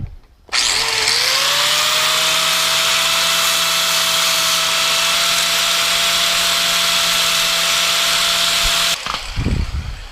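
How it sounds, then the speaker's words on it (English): Power grinder smoothing welds on a 1/14 scale model lowboy trailer, a loud sustained high-pitched whine that spins up, holds steady for about eight seconds, then cuts off. "with those welded smooth now, time to grind them smoother."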